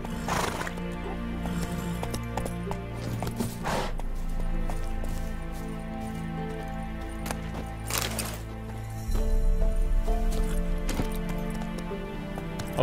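In The Witcher 3, a horse clip-clops steadily along under ridden hooves, with loud neighs and whinnies breaking in several times over a game music backdrop.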